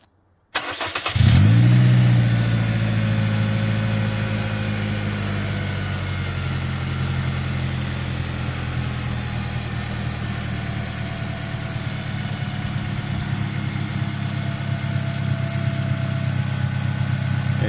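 A 2009 Pontiac Vibe engine cranks and catches with a sharp burst, then settles into a steady, close idle with a low hum and faint ticking that continues alone to the end.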